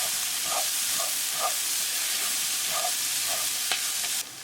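Corn masala stirred in a pan with cilantro just added, a steady hiss of frying under repeated soft scraping strokes of a spoon, close by, with no talking.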